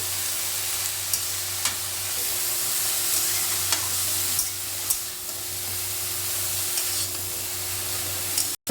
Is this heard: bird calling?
no